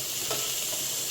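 Vegetables for millet noodles frying in a wide pan, a steady soft sizzle throughout with a couple of brief stirring scrapes, close and alone.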